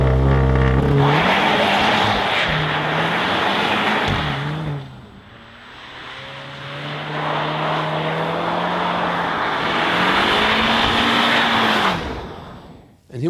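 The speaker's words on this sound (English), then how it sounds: "And here we go with the 2-liter TSI 300 horsepower turbo petrol engine." A 300 hp 2.0-litre TSI turbo petrol engine in a Seat Leon ST Cupra with DSG and all-wheel drive, driven on ice and snow, revs up loudly through several gear changes, easing off briefly mid-run before pulling hard again.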